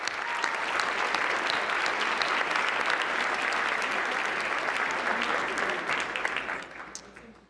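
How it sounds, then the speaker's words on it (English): Guests at a formal press correspondents' dinner break into a big round of applause, a full, sustained wash of clapping from a large room that fades out in the final second. "Let's give Caitlin another big round of applause."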